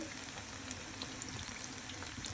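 Cauliflower pakoras frying in hot oil give a continuous, even crackling sizzle, faint and steady throughout with no voices.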